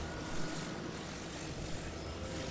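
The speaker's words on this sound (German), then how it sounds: "Und dann da noch ein Propeller hinten dran." A propeller on a player-built vehicle in The Legend of Zelda: Tears of the Kingdom gives off a steady, broad whirring drone with no breaks, fairly soft and heard alone without speech.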